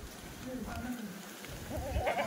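A Kathiawari goat, a late-bred milking doe, bleats once or twice at close range while people talk over it nearby.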